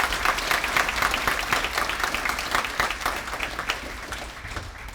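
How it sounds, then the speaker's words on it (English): Applause from an audience at an awards celebration, steady dense clapping filling the room for several seconds and tapering slightly at the end. "So give our milestone mentors a round of applause."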